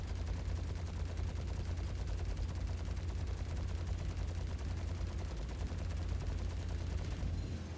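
Sustained automatic enemy gunfire in the Star Citizen space game, a dense continuous rattle of rapid shots over a low engine rumble, steady and loud throughout with no talk.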